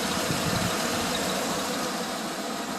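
A 1994 Ford F-150's 5.0 V8 engine idles steadily and loudly close by, with a smooth, even rumble and no other sounds.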